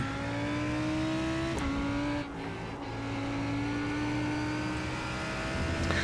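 A Lamborghini Huracán GT3 Evo race car in the iRacing simulator at Hockenheim holds a loud, steady high-revving engine note, with a quick upshift, a brief dip in revs and then a climb back to full throttle.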